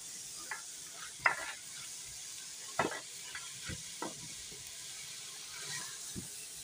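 Whole masoor dal cooking in a pan, stirred with a spoon that scrapes and clinks in sharp irregular bursts over a steady soft sizzle of frying, with no talk.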